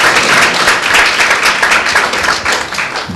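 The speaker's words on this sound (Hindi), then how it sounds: "आइए खुद के लिए तो ताली बजाएं" A church congregation at a Tuesday worship meeting claps together in a loud, dense, continuous burst of applause that fills the room for a few seconds.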